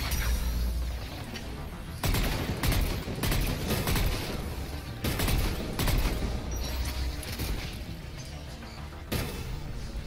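Mass Effect 3 combat with rocket fire: loud bursts of explosive blasts and gunfire in quick clusters, booming impacts and crashes separated by short lulls of rumbling battle noise.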